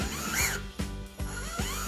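A small drill bores holes in a hot air balloon ornament, heard as several short, close whirring bursts in a quick series with brief gaps between them.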